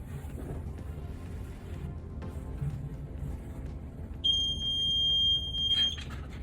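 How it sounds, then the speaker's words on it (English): A stud finder passed over a metal wall stud gives a steady high-pitched electronic tone lasting a couple of seconds over low background rumble. "if this is my metal stud, it should beep when I go here"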